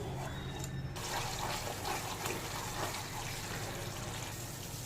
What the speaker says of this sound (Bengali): এবার দিয়ে দেবো অল্প একটু জল।